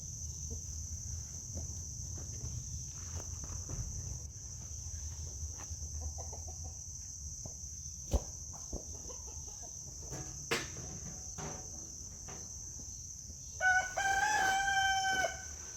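A constant high insect trill fills a quiet farmyard as chickens gather around new equipment, with scattered soft clucks and knocks, then a loud rooster crow bursts out near the end.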